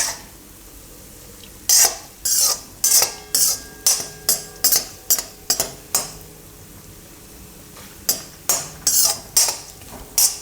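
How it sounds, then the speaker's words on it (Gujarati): A spoon scrapes and clinks rhythmically against a pan as kheer ingredients roast in desi ghee, a quick run of sharp stirring strokes, pausing, then resuming, close and loud over a soft sizzle with no talk. "ઘીમાં શેકાઈ જાય ને ને ઘીમાં શેકી એટલે સુગંધ એકદમ સરસ આવે એમ."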